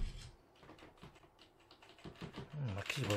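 Quiet clicking of a computer keyboard being typed on in short irregular bursts, with faint game sound and a voice in the background.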